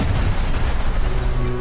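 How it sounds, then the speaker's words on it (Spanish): A large explosion gives a loud, dense rumbling burst that fills the whole moment, with a low roar sustained throughout and no voices. "una gran explosión rompe la calma"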